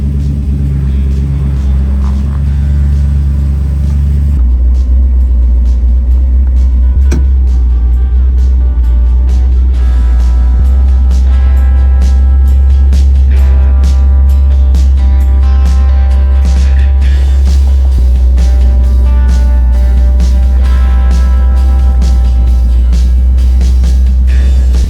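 A Studebaker drives while its Atlas transfer case is tested, a loud, continuous low engine and drivetrain rumble heard from inside the vehicle that steadies after a shift a few seconds in, with rattles and road noise over it.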